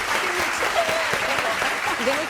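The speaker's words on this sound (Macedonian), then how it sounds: "Може да ги поздравим, мислам, со еден голем аплауз, нели?" Big round of audience applause in a television studio talk show, dense steady clapping filling the room with some crowd noise and faint tonal sounds mixed in.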